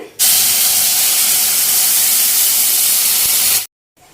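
Milk poured into a pan of roasted poha for a Gokulashtami aval payasam gives a loud, steady, broadband hissing rush that holds for about three and a half seconds, then cuts off abruptly.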